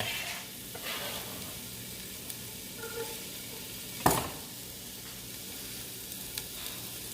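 Onions frying in olive oil in a pan give a continuous soft sizzle, with faint stirring and one sharp clatter of a utensil midway, close by and without speech.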